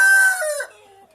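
A desi rooster crows loudly and close on a farm where hens lay eggs, one bright crow trailing off within about a second, with the flock faintly clucking behind.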